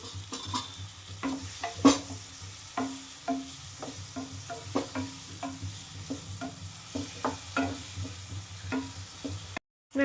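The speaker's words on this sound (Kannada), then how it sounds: "ಜಸ್ಟ್ ಇಷ್ಟು ಫ್ರೈ ಮಾಡಿಕೊಂಡು ನೆಕ್ಸ್ಟ್ ಈಗ ಇಲ್ಲಿ ಮ್ಯಾರಿನೇಟ್ ಮಾಡಿ ಪನ್ನೀರ್ ಕ್ಯೂಬ್ಸ್ನ ಆ್ಯಡ್ ಮಾಡ್ಕೊತಾ ಇದ್ದೀನಿ" Marinated paneer cubes fry in a pan with a steady sizzle, broken by rhythmic scraping and stirring strokes from a spoon against the pan, close and fairly loud throughout, with no voices.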